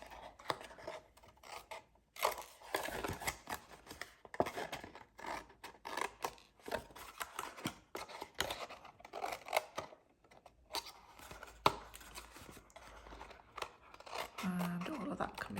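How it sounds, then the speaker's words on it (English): Scissors snipping through Easter-themed designer series patterned paper for a gift box, a steady run of close, crisp cuts and rustling paper strokes continuing throughout with short pauses between. "And just keep cutting the ones away that you've marked."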